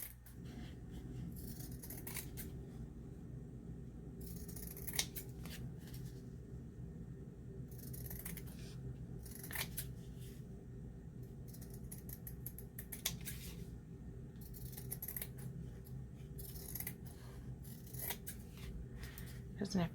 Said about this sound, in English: I'm going to trim some of this off